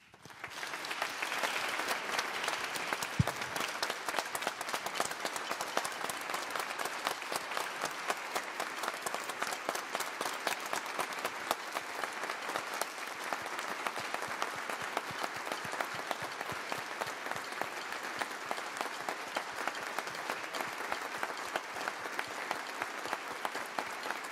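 A concert audience gives a long, sustained ovation of dense applause for the music director of a cathedral brass ensemble, a steady roar of many hands without voices.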